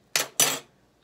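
Silverware being rinsed and washed by hand at a sink: two short bursts of running water and clinking utensils, close and fairly loud, then a quiet gap and a faint final splash.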